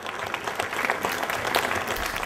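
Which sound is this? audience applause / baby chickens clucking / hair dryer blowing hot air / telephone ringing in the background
audience applause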